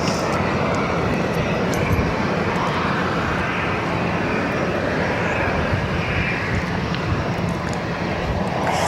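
A private jet's engines roar steadily and loudly at a Barcelona airport holding point, a continuous broadband rumble with no voices over it.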